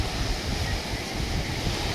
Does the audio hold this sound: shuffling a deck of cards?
no